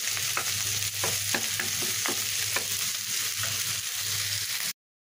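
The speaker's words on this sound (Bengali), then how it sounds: "আস্তে জালে এরকম করে নেড়ে ছেড়ে ভেজে সিদ্ধ করে নিতে হবে" Vegetable filling frying in a pan over low heat while being stirred, a steady sizzle with repeated scraping strokes of the spatula, close and continuous, no talking.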